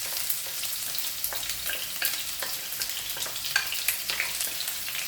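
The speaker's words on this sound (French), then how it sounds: "Je vais faire revenir mes oignons." Onions frying in oil for a potato omelette, giving a steady, close crackling sizzle with scattered sharp pops and occasional stirring clicks, with no voices.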